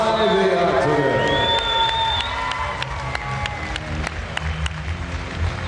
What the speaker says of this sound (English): Can we have a round of applause, please, for the two warriors inside the octagon?